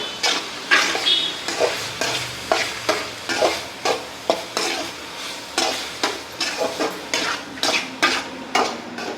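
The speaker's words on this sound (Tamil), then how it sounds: "இப்போ இந்த காய் கூட வந்துட்டு மிக்ஸ் பண்ணிக்கலாம்" Mixed vegetables, beans among them, are stirred in a frying pan in a home kitchen. A utensil scrapes in a steady repeating rhythm over a continuous sizzle, close and fairly loud, with no talking.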